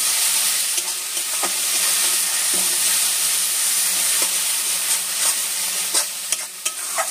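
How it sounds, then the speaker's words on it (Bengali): Spices are stirred and mixed through paneer with chili in a frying pan, a steady close sizzle with repeated scraping strokes of a spatula against the pan and no talking. "এবার মশলার সাথে ভালো করে মিশিয়ে নেবো এটা।"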